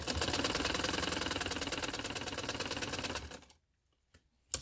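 A sewing machine stitches fabric for a neckline and sleeve design in a fast, steady mechanical run for about three seconds, then stops, leaving near silence broken by a faint tick and one short final burst. No one speaks.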